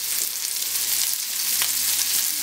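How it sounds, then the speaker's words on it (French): Langoustines browning in a hot pan give a steady, dense sizzle that stays loud and even throughout, with a few faint scrapes and no voices. "Donc on va colorer nos langoustines pour leur donner un bel aspect"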